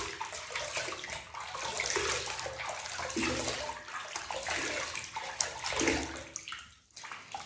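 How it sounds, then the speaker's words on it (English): A face being rinsed with lukewarm water after cleansing: continuous splashing and running water, fairly close, with irregular swells of sloshing and no talk. "I'm going to splash this off with some lukewarm water"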